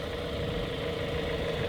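A 2016 Dodge Dart Rallye's 2.4-liter MultiAir Tiger Shark four-cylinder, 184 horsepower, idles steadily with a low, even hum and faint vibration, close by and without voices.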